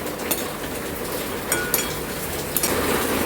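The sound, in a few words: fox nuts (makhana) frying in hot ghee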